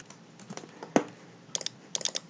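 Keys tapped on a computer keyboard while entering a command in CAD drafting software: a few scattered soft clicks, one louder thump, then quick clustered keystrokes near the end, close and fairly quiet.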